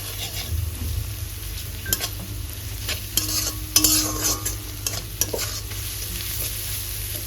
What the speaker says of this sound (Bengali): সেই গ্রেট করা আদা রসুন দিয়ে হালকা একটু নাড়াচাড়া করে নেবো